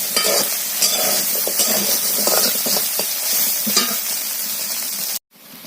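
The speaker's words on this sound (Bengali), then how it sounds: "সোয়াবিন আলুটা ভাজার জন্য কড়াইয়ের মধ্যে দিয়ে দিচ্ছি" Soybean chunks and potato frying in oil in a kadai, a loud, close, continuous sizzle with frequent scraping stirs against the metal, ending abruptly in a brief silence.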